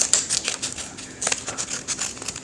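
Scissors snip through paper while a mask is being made, a run of quick crisp cutting strokes at close range with soft crinkling in between.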